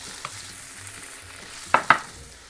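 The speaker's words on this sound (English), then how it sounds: "So now we are going to stir it a bit and just cover it" Pumpkin bhaji being stirred in a pan, with a soft background sizzle and two sharp scraping clicks of the spoon near the end.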